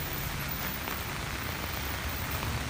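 Heavy rain pours down steadily in Mid-City, New Orleans, a day after major flooding, a dense continuous hiss close by with no one speaking.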